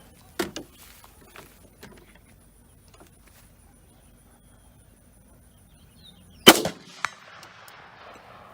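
Two sharp gunshots from a PSA AR-15 rifle fired outdoors at a range, one near the start and a louder one about six seconds later, each cracking loudly with a short echoing tail and quiet between.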